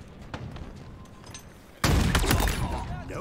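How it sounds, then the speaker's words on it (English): A sharp, loud shot crack from an S7 sniper rifle in Halo Infinite lands abruptly midway, then rings out with a booming tail, after a quieter stretch of faint distant gunfire. "Enemy has an S7 sniper"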